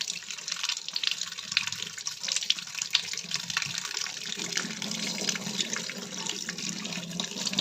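Steady running water from a tap splashes continuously over flattened rice being rinsed, close and fairly loud, with no voices.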